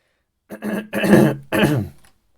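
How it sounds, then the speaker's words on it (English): Three harsh, close coughs in quick succession, each a short rough burst, with a pause between and silence after. "Sorry for the coughing."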